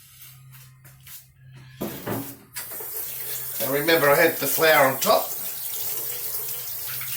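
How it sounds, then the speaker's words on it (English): Water from a kitchen tap runs and splashes as hands are rinsed of bread dough and flour, with a person speaking over the flow before a sink rattle. "So I just wash my hands"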